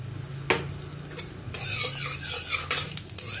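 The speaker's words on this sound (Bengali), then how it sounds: "আলু ভাজার তেলের ভিতরে আমি শুকনো লঙ্কাটা ফোড়ন দিয়ে দিলাম। এবার এখানে কালো জিরাটা দিয়ে দিলাম।" Dried red chili, then nigella seeds, dropped into oil left from frying potatoes: a utensil clack, then from about halfway a steady, close crackling sizzle with light metal clinks.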